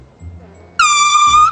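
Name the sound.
air horn going off in a garage prank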